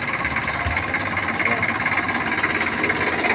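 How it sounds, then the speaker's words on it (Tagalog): Rebuilt Honda BA1 car engine running after an engine swap, a steady close idle with a faint knocking, ticking rhythm and continuous vibration. "naandar na itong pinauntay namin na makina ng BA1"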